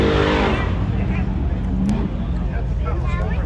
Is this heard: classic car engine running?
yes